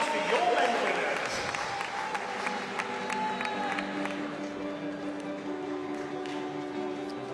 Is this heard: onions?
no